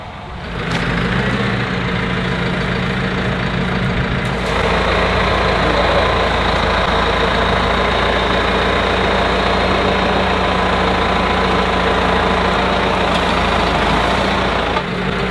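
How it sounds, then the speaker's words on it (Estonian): A tractor engine runs steadily at idle for the whole stretch, a continuous low heavy rumble with a rough vibrating drone, fairly loud and close, with no voices over it. "Vaatame, kus traktor tuleb ja läheb tööks."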